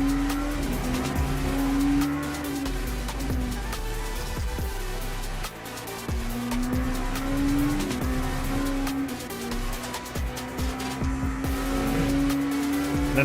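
A race car in the Le Mans Ultimate video game at Spa weaves to warm its tyres, giving a loud continuous engine drone that rises and falls with gear changes, with intermittent tyre squeal and no talking.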